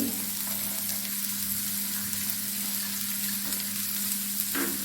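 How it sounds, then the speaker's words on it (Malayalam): Sliced small shallots frying in about three spoons of oil for a fish curry, a steady close hiss and crackle throughout with no talk. "ഒരു മൂന്ന് സ്പൂൺ എണ്ണ ഒഴിച്ചു നീളത്തിൽ കട്ട് ചെയ്ത് വെച്ചിരിക്കുന്ന ചെറിയ ഉള്ളി ഇട്ട് കൊടുക്കാണ്"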